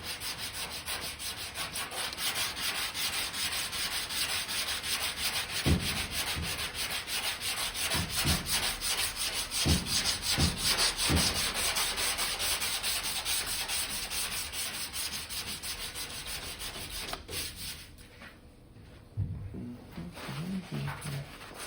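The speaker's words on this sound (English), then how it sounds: "So you got to keep sanding in those areas there till it disappears." Body filler over the lead seam of a 1968 car's quarter panel is sanded by hand with a long, steady scraping rub that continues through most of the stretch, with a few knocks, before tapering off near the end.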